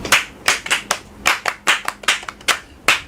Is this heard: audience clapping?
yes